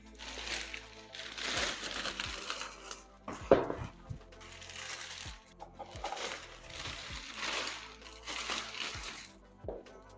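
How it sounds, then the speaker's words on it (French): A large plastic bag crinkles and rustles close up as an electric scooter, a Kaabo Skywalker 10C, is pulled out of its packaging, with irregular bursts of crumpling and a few sharp cracks. "Ensuite, on va la sortir de ce gros sac plastique."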